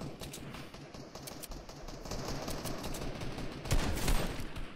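Rapid gunfire from the Fortnite video game rattles in quick bursts of shots, fairly faint and busy, with a louder cluster near the end; no talk is heard.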